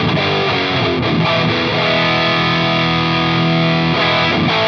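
Distorted electric guitar through a Tech 21 Richie Kotzen RK5 Fly Rig multi-effects pedal, playing a continuous, dense riff of overdriven chords, loud and steady throughout with a gritty, saturated tone.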